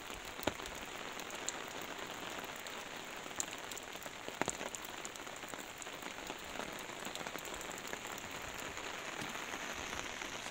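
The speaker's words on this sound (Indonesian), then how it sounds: "Ini lagi hujan" Night rain falls steadily on Gili Air, Lombok, a dense, even patter of drops on surfaces with occasional sharper splashes, continuous and fairly close with no voices.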